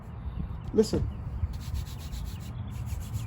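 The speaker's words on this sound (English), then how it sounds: "that's oxidation, contamination embedded in this carbon fiber" Close, dry rubbing strokes across an oxidized, contaminated carbon fiber surface, a scratchy abrasive rasp repeated several times at an even pace.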